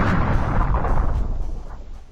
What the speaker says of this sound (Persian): بابا خفه شدیم از این انفجارا.